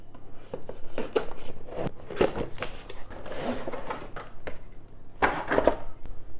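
Small outdoor light camera being unboxed, with a run of close crinkles, taps and plastic-and-cardboard rustles from the packaging, irregular and fairly loud with short pauses between handling noises.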